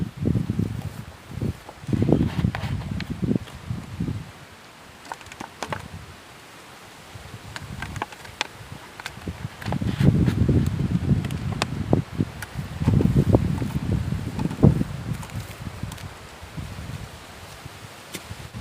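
Dry wind rustles leaves outdoors in waves that build and fade, with soft crackling gusts, occasional close ticks and thumps, and no voices.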